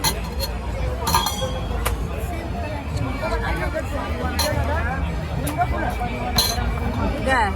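Glasses clink and rattle as they are knocked down by a thrown ball at a fair game stall, several brief bright clinks scattered over a continuous crowd babble at a busy trade fair.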